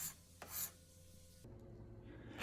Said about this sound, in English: I finalized the handle with a card scraper